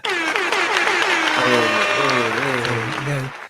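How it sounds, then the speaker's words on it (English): Steady applause fills the whole stretch, dense and even, while a voice talks over it. "You gotta get the applause in there, Sean."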